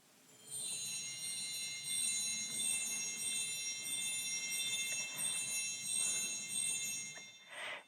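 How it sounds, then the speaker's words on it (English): Small bells of a Zimbelstern stop on a church pipe organ ring continuously as a rotating series, a bright steady high tinkling that stays fairly even from start to finish, close and alone without voices. "It's actually a little series of bells that go around."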